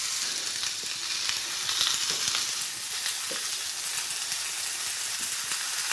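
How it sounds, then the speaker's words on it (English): Sliced cured bacon frying in a hot griddle pan, a steady bright sizzle and crackle with occasional pops and faint stirring, close and continuous without talk. "I've got it all sliced up and ready for us to get the sizzle going"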